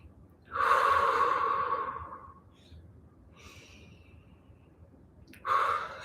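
Deep, slow breaths taken while holding a squat during a yoga-style practice, two long airy exhales separated by a quieter inhale, close and alone without speech.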